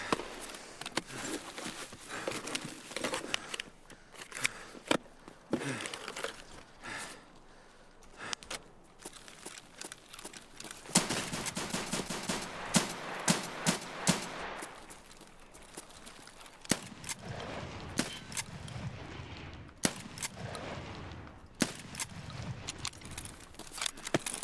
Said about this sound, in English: Now shots to my left.